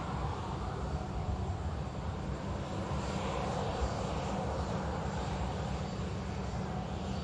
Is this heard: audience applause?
no